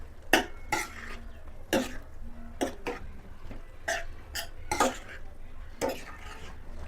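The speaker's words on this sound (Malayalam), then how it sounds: "ചേർത്ത് നന്നായിട്ടൊന്ന് മിക്സ് ചെയ്ത് കൊടുക്കാം" A spoon stirs soybean chunks into a thick masala gravy in a pan, making a series of separate clinks and scrapes at irregular intervals over a steady low background.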